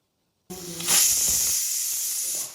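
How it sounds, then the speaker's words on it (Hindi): A pressure cooker whistle on a gas stove, cooking chickpeas, bursts into loud, steady hissing steam after a brief silence. The hiss swells, then holds almost constant until the end, with no talk. "गैस ला बंद करके कुकर की सीटी ला पूरा खुले देबो"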